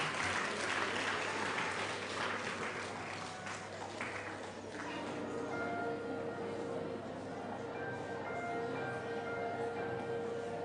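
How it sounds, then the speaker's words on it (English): Audience applause at a secondary school event as a singer is introduced, broadband clapping filling the room, loud and sustained, with a musical tone emerging partway through. "Let's give her a round of applause."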